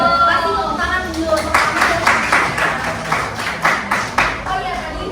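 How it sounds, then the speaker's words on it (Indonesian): Schoolchildren in a classroom clap their hands together in a group, a loud, fairly rhythmic patter of close claps that rises and pulses for several seconds, with some voices mixed in. "Kasih tepuk tangan dulu."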